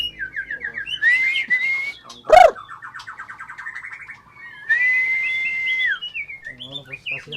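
A male songbird in a breeding aviary sings clear, loud whistled trills and sweeping notes in bursts with short gaps, and one sharp knock sounds partway through.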